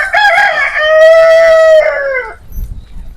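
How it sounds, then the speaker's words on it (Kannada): A rooster among about twenty chickens kept by a farmhouse near Hosahalli, Tumkur crows loudly and close by in one long, drawn-out call that fades at the end. "ಕೋಳಿ ಇದಾವೆ ಒಂದ್ 20."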